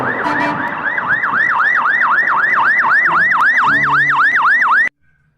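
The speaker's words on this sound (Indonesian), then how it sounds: "kalau yang ini mobil tangki teman-teman, pemadam kebakaran" A toy fire tanker truck's loud wailing siren rises and falls in a steady, rapid cycle for about five seconds, then cuts off abruptly.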